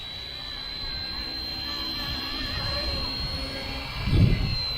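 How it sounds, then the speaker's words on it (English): A WLtoys XKS K-Series RC helicopter, a scaled BlackHawk or SeaHawk model, cruises at close range outdoors, a steady high-pitched motor whine with a thin buzz, and a brief low gust or thump near the end. "Just cruise around, close range, so you can see the helicopter."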